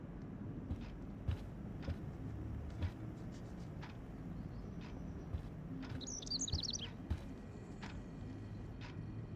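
Birds in the video game Life is Strange chirp faintly over a soft outdoor ambience, with a quick twittering burst partway through and scattered light clicks.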